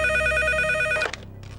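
A telephone rings loud and close in a steady electronic trill for about a second, then cuts off, leaving faint room noise during a phone call scene in a Tamil film.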